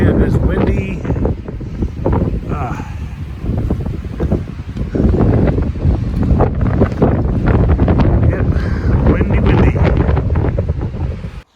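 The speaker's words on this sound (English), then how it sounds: "Oh man, it's windy." Strong wind buffets the microphone in a loud, continuous rumble outdoors by a small stream in the Sierra Nevada on the Pacific Crest Trail, with gusts rising and falling throughout.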